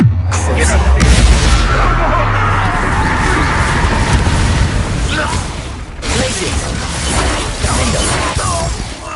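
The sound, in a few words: explosive spells Bombarda and Confringo in video game Hogwarts Legacy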